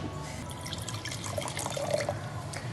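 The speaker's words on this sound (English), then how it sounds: "this is the Sauvignon version, which she's going to pour us" Sauvignon wine poured fresh from the bottle at a wine and cheese tasting, a soft continuous trickle and splash of liquid with faint drips, heard alone at low level.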